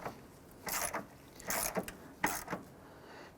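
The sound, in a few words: ratchet tightening battery wedge bolt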